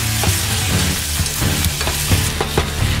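Garlic, white onion and tomato sizzle and crackle in hot oil with occasional stirring scrapes, a steady close frying sound with no talking.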